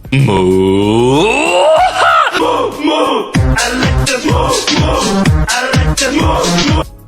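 A man imitates an ox mooing, starting with a long, loud, low drawn-out moo, then a run of rhythmic, loud vocal bellows up close.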